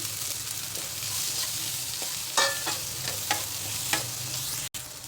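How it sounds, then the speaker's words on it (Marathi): Finely chopped potato fries in a hot pan with curry leaves, a steady close sizzle broken by several sharp scrapes and clacks of a spatula stirring, with a brief dropout near the end. "हा बटाटा बारीक कापून घेतलाय तो घालायचा"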